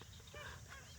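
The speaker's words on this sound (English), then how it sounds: "Oh wow, there's magpie geese." Magpie geese honking at dusk over the water during a fishing trip, a brief, faint burst of nasal, squeaky calls with steady background hiss.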